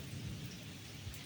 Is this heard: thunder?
yes